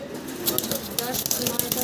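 Young pigeons in cages at a pigeon farm coo softly and repeatedly against a steady background, with occasional fluttering and faint voices nearby.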